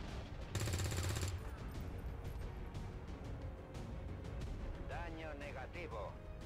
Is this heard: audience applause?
no